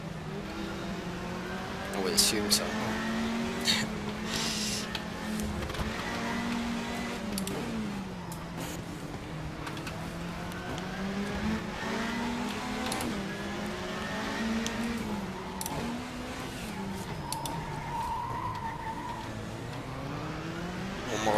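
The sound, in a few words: race car engine sputtering in video game Race07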